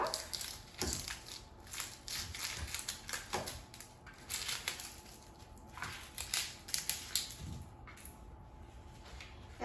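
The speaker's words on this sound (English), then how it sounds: "now I'm going to cut the onion" A knife chops an onion on a cutting board for black bean and corn salsa, with faint, close, irregular crunchy cuts and soft knocks of the blade against the board, some in quick bursts.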